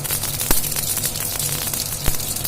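Cumin and mustard seeds sizzle in hot oil for a tempering for a raw mango and coconut chutney, with the stove just switched off. The steady close hiss and crackle carries a couple of sharp pops.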